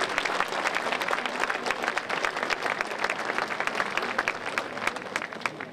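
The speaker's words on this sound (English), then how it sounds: "Please give them another round of applause." An outdoor crowd at a flag-raising ceremony outside Fresno City Hall claps in steady, sustained applause that continues evenly throughout.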